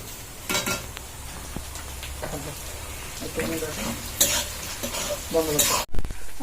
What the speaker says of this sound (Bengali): আছে পেঁয়াজটা প্রায় ভাজা হয়ে গেছে, সেটা দিয়ে দেবো।